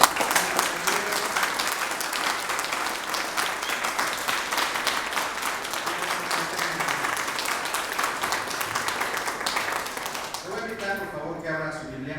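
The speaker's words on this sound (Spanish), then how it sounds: "Denle un fuerte aplauso al Señor," Loud, sustained applause from a church congregation, steady for several seconds before a voice starts speaking as it fades.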